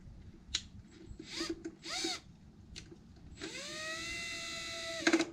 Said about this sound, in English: That just screws up against the stainless bracket.